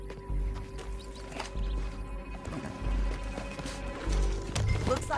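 Hoofbeats of a galloping horse in the open-world video game Red Dead Redemption 2 (a chase through a canyon) thud steadily and close, mixed with game ambience.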